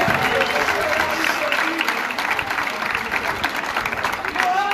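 Festival audience at a banda festival in Mazères clapping, a busy continuous round of applause with crowd chatter and shouts mixed in, fairly loud and steady across the whole stretch.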